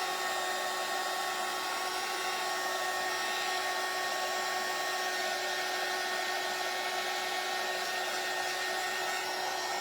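A hair dryer blows steadily to dry a bunny napkin craft project. A continuous, even whooshing hum with a faint whine runs unbroken throughout, close and alone.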